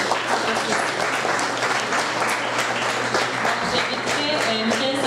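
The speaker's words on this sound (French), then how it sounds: "On peut les applaudir" Audience applause fills a student association election debate hall, steady dense clapping from a crowd that holds at even loudness throughout with no clear break.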